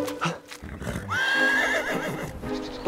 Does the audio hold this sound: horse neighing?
yes